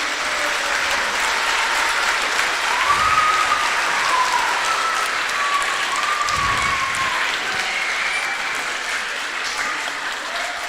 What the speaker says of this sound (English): So can we have a big round of the applause for all the teachers?